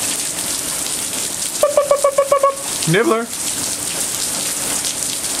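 Steady rain falls on a bird house sheltering a squirrel on a Christmas morning, a constant soft patter beneath a brief burst of bird chirps and a person speaking a name.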